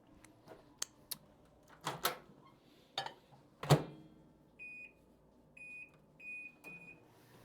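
Microwave oven gives a string of short, thin beeps near the end after melting butter, following scattered kitchen clatter and knocks; quiet and fairly close.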